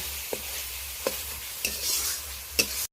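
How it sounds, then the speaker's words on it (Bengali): Ground spices stir-fried in hot oil for mourola fish curry, a steady soft sizzle broken by several sharp scrapes of a spatula against the pan at regular intervals. "এবার সমস্ত কিছু গুঁড়ো মশলা দিয়ে দিলাম। হালকা আছে মশলাটা এইভাবে আরও 2 মিনিট ধরে ভালো করে কষিয়ে রেডি করে নেব।"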